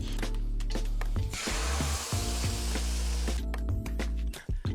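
Steady sizzling of whisked eggs frying in a hot pan, a constant close crackle with a low background hum and a few faint clinks.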